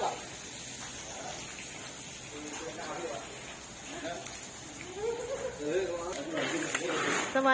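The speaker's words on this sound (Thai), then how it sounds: "เพราะว่าฝนตกหนักเลยนะคะ" Heavy rain pours down steadily in an outdoor setting, a dense continuous hiss while someone talks over it.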